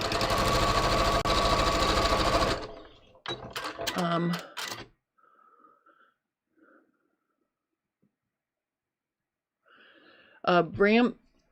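A sewing machine stitching knit elastic runs in a loud, fast mechanical whir for a couple of seconds, then stops; brief handling clatters follow, and someone talks near the end.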